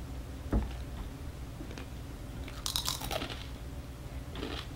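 Close crunching bites and chewing, a few sharp crackly bursts spaced out over quiet room tone.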